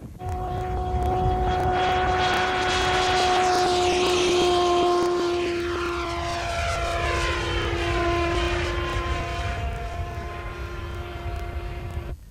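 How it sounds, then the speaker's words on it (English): A small, roughly 5 horsepower radio-controlled model aircraft engine screams at high, steady pitch, loud and close, its tone sliding gradually as it passes or shifts speed. "So you've got an awful lot of power in a very small engine."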